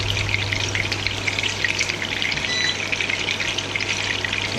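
Lamb and haloumi meatballs fry in a wok with a steady, loud crackling sizzle and fine spattering that holds evenly the whole time, over a low constant hum, with no voices.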